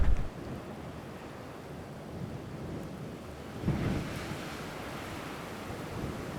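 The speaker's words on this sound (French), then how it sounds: "avec un vent du sud à décorner un bétissou" Strong south wind rushes and buffets continuously in open air on a mountain summit at the Col de Cogaïna, with a heavier gust swelling partway through.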